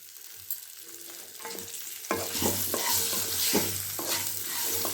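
Sliced ivy gourd sizzles and hisses in a hot pan, with a few scrapes and stirs of a spoon over a steady frying crackle.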